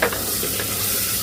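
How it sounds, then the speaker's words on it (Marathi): Tomatoes and onion sautéing with salt in a pan, a dense steady sizzle close and loud with a soft stir at the start, no voices. "असं परतायचं आहे. टोमॅटो नरम झाला पाहिजे."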